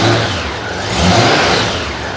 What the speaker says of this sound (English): Flip the throttle every once in a while to try to help get the air out of it.